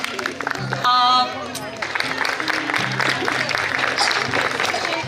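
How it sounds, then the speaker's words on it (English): A crowd at a school kindergarten annual concert breaks into sustained applause, dense clapping filling the space, with voices and cheering mixed in. "Let's give him a huge round of applause."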